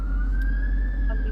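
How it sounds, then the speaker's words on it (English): A wailing ambulance siren sweeps slowly upward and holds steady through a nighttime Los Angeles street scene, loud and continuous under a low traffic rumble. "I hear a ambulance."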